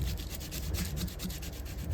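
Rubbing with a bone folder, a steady dry scraping friction that runs continuously for two seconds, close and moderately loud with no talk.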